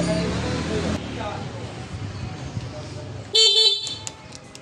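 A Honda Scoopy FI ESP scooter, in for repair with a starter fault, sounds its electric horn once: a short, loud, close blast near the end, after a stretch of muffled workshop background noise.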